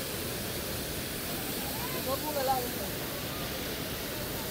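Water pours over Taytay Falls in Majayjay as a steady, full rushing roar that holds even and unbroken from start to finish, with a faint murmur of people beneath it.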